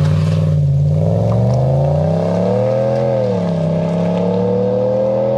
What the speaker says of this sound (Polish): wydech Flowmastera, tu tak, jest przelotowy założony